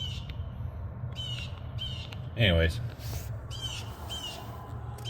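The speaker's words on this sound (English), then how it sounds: "That bird is annoying." A crow-like bird squawks and caws outdoors in several short, harsh bursts, fairly close, while someone talks briefly.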